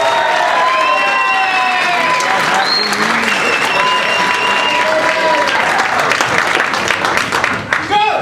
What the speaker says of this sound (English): that applause going for the very funny Patrick Ward